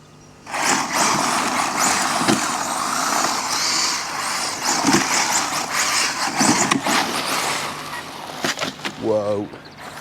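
A ZD Racing EX07 1/7-scale RC car drives over stony ground with a loud, gritty, fluctuating motor and tire roar that persists for most of the stretch, with brief sharp surges and a short chirping tone near the end.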